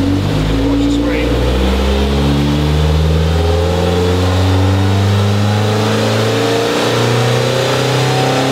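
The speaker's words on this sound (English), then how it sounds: "I got my foot to the floor now, so it'll hold the 1200 RPM starting speed" A car engine on a chassis dyno holds at full throttle, then climbs through the revs in a long loud sweep with rising engine tones, close and dominating, with a voice faintly underneath.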